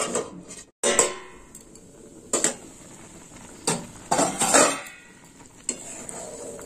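A lid set on a cooking pot after sweetener is added to a bori tok (lentil-dumpling sour dish), heard as several close metallic clanks and clatters spaced over a few seconds, with no talk.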